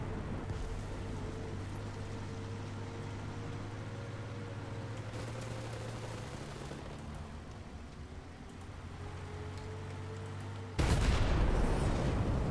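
Tank cannon fire in the War Thunder video game from an FV4005 with HESH rounds: a steady low engine drone and distant battlefield rumble, then a sudden loud broadband blast near the end that carries on as a heavy roar.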